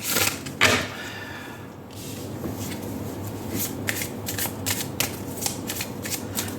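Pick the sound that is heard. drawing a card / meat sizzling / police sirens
drawing a card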